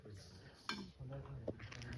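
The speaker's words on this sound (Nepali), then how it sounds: "सबैजना भाँडा मार्दै हुनुहुन्छ" Dishes being washed outdoors in the morning, faint clinks and knocks of pots and utensils, with a couple of sharper clanks over quiet background.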